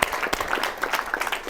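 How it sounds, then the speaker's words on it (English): A roomful of people at a hypnosis show claps briefly, with a quick burst of sharp, uneven handclaps at moderate distance. "Give me a round of applause."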